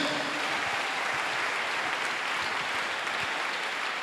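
A church congregation applauds, with dense, steady clapping close by that holds at an even level throughout.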